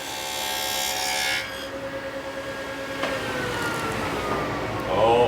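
A saw cuts a slot into plywood marked with chalk for an under-table-saw storage cabinet, a steady rasping run that shifts in pitch partway through and grows louder near the end, with no talk over it.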